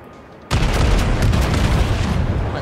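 Naval gunfire from a battleship's main battery in World of Warships, the Warspite firing a salvo: a sudden heavy boom that rolls into a long, loud rumbling roar lasting over two seconds.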